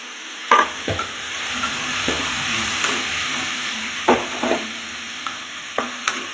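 Tomatoes fry and sizzle in a pan for a fish kuzhambu, with a steady close hiss and a spatula scraping and clacking against the pan at irregular moments.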